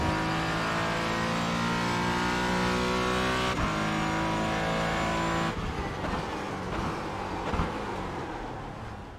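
Race car engine in the iRacing simulator, a loud sustained high-pitched roar climbing through gears with sharp shift breaks, then easing off and fading slightly toward the end.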